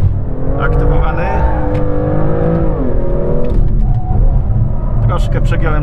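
A BMW M2 accelerates hard on a race track, its engine note rising and sweeping through gear changes, loud and close as if from inside the cabin, with someone talking over it.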